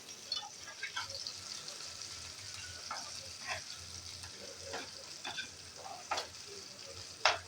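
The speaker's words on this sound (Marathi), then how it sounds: "आपण जे कांदा आणि हे घातला, लसूण मिरची, तेही आता आपण परतून घेऊया." Onion, garlic and chilli sauté quietly in a pan with a soft, steady sizzle, broken by scattered light clicks and scrapes of stirring.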